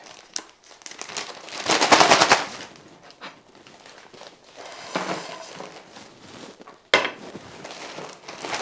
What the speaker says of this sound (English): We're going to take these shortbread cookies and we're going to place them right in the freezer bag.